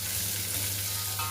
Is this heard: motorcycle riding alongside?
no